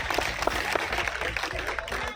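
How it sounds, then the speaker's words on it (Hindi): A crowd at a political rally claps in scattered, continuous bursts at moderate distance, with no clear voice on top. "पहले तो मैं उनके लिए ताली बजाऊंगा"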